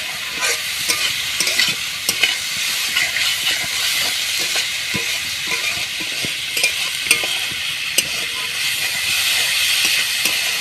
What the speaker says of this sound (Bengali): দিয়ে আমি একসাথে ভালোভাবে মাখিয়ে নেব।